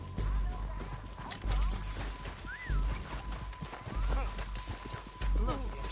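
Horses in Red Dead Redemption 2 clip-clop with heavy hoofbeats and snorts amid rough surrounding noise, while voices talk over them.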